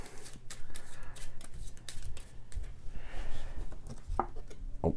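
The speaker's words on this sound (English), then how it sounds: "We'll shuffle these and then we'll flip one." Rapid, irregular clattering of cards being shuffled, with quick riffles and snaps close by.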